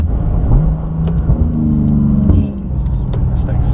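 2019 Porsche GT2 RS accelerating hard, a loud close engine roar climbing in pitch through gears with brief shifts, heard from inside the car.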